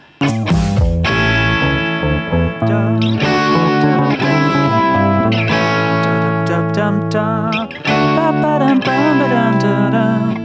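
An electric guitar with overdrive distortion plays sustained chords and bending notes, loud and gritty, with no voices.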